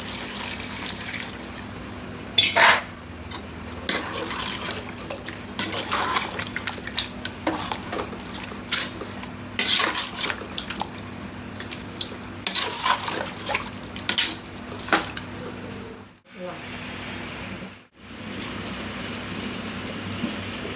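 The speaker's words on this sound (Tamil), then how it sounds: "அப்புறம் தண்ணி ஊற்றிக்கலாம்." Water poured into a cooking pot of chicken kurma after ground coriander goes in, a steady running splash with brief pauses and a couple of short gaps near the end, moderately loud with no talk.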